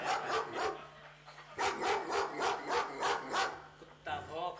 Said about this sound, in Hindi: कुत्ता भौंक रहा है